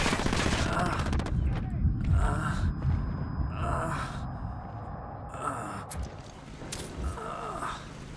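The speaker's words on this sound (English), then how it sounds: "I'm opening fire on these shitheads" Gunfire in the Ghost Recon Wildlands video game, several sharp, loud bursts of shots spaced across the clip, with breathing, gasps and other game sounds between them.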